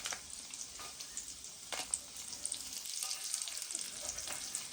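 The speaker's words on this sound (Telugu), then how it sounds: "నూనె వేడి అయ్యిందండి ఇప్పుడు ముందుగా మనం జీలకర్ర వేసుకుందాం అందులోనే ఎండుమిర్చి కూడా వేసుకుందాం" Cumin and dried red chillies frying in hot oil for a gongura pickle make a soft, steady high sizzle, with a few faint stirring scrapes and no voices.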